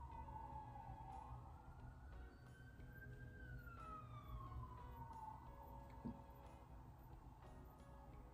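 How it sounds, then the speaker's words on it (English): A wailing siren rises and falls slowly in the distance, faint behind a low background hum, with a single soft knock near the end. "There's sirens in the background."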